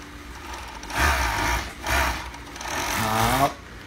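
Overlock serger sewing machine stitching fabric, a steady close mechanical whir that surges in short runs with a rapid needle rattle, with no talking over it.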